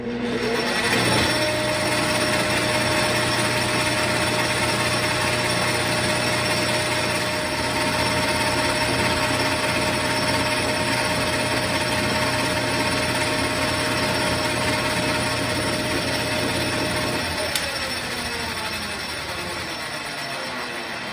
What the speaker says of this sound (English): we're going to bore a hole to accommodate that shaft